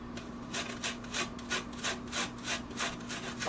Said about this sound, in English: We're going to grate up some fresh ginger.